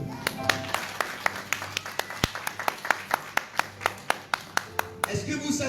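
A church congregation claps for Jesus in steady, rhythmic unison, with loud, evenly spaced hand claps repeating about twice a second over a faint background of voices.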